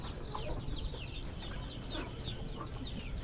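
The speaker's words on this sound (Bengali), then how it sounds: "এখানে মুরগি একত্রে এখানে 2-3টা ডিম পাড়তেছে একত্রে এর ভিতরে" Hens on a small poultry farm where several lay eggs together, a busy flock clucking and chirping continuously at mid distance over a steady low background rumble.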